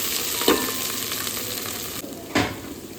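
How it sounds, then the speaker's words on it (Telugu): Coriander and mint leaves are stirred into a dish frying in a pan, under a steady close sizzle. Two distinct scraping stirs of the spoon sound about two seconds apart. "కొత్తిమీర ఆకు వేసుకుంటున్నాను, ఇంకా పుదీనా వేసుకొని ఒకసారి కలిపేసుకోవాలి."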